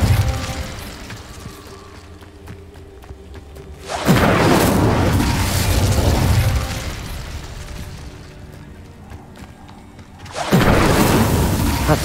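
A fiery Incendio spell from Hogwarts Legacy bursts out twice, each a loud, broad whoosh-and-boom that swells and fades over a few seconds amid quieter game ambience.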